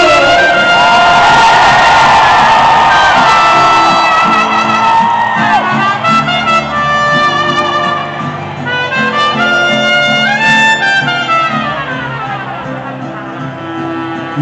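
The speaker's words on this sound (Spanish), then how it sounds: "A ver un grito." A large concert crowd at a show roars on request with loud shouts, whoops and cheers, a sustained, dense wall of voices that slowly tapers off over the closing seconds.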